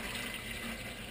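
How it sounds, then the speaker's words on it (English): Water draining out of a Phosban reactor holding Rowa media, a steady close rushing and trickling hiss with no break and no talk. "I'll drain out as much of the water as I can without getting any media"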